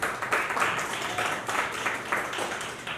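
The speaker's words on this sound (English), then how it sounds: "give yourselves a round of applause for showing up today" An audience at a speaking event in Cleveland, Ohio claps in a fairly quiet, steady round of applause with scattered individual claps across the room.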